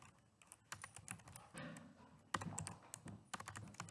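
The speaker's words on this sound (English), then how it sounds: "Here's where I can type in terms like music" Close, quiet computer keyboard typing of search terms, with quick irregular key clicks in short bursts and brief pauses.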